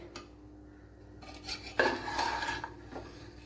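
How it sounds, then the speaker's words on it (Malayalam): Fish pieces and rice stirred slowly and gently in a pan for fish fried rice, making soft scraping and clinking spoon-on-metal sounds that swell in the middle, close by and without talk. "എന്നിട്ട് ഒരിളക്ക് കൂടെ വളരെ പതുക്കെ സാവകാശത്ത് മീനിൻ്റെ കഷ്ണമൊക്കെ ഒത്തിരി അങ്ങ് പൊടിഞ്ഞു പോവാതെ ഇളക്കി കൊടുക്കണം കൂട്ടുകാരെ"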